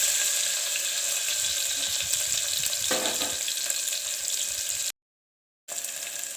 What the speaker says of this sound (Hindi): अब हमने प्याज और हरी मिर्च को डाल दिया है।